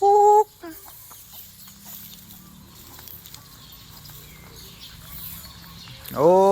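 A hen clucks in the morning on a farm, with loud short clucks at the start and again at the end and quieter scattered barnyard sounds between.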